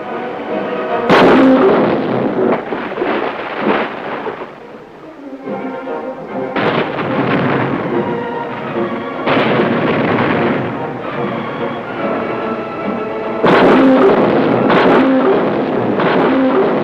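Naval destroyer guns firing in battle, heavy booming blasts with long rumbling tails repeating every few seconds, loud and close in an archival recording.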